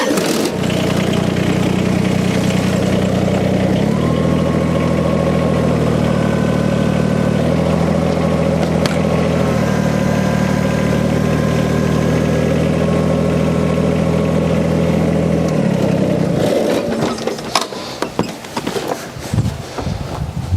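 A compact BX tractor engine idles steadily and loudly with a low, even drone for most of the clip, then cuts off, leaving scattered clicks and clatter.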